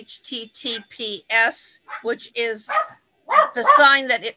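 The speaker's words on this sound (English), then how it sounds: "The dogs are barking." Dogs barking as a doorbell rings indoors, a few short barks mixed into and under steady talking in a room.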